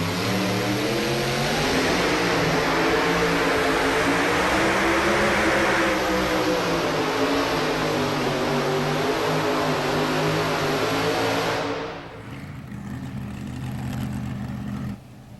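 A mini rod pulling tractor at a 1994 NFMS tractor pull in Louisville, Kentucky: a loud, continuous, high-revving engine roar that holds steady, then drops sharply to a lower, quieter drone near the end.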